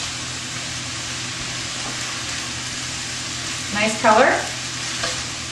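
A garlic cream mixture cooks in a pan, giving a low steady simmer and sizzle, with a brief burst of stirring and spattering near the end; a voice speaks briefly over it.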